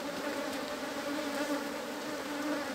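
Apis honey bees buzz in a dense, steady drone at an open hive while a central frame is inspected, close and continuous with no voices.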